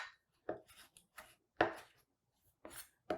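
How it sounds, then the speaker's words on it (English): Salad leaves torn apart by hand, heard as short, separate crisp ripping bursts, close and fairly clear, repeating irregularly in a quiet room. "you can just use your fingers and kind of rip those leaves apart"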